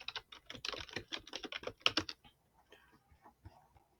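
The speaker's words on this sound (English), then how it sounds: "Let me type it out." Rapid typing on a computer keyboard, a dense run of close, crisp key clicks for about two seconds, then only scattered faint taps.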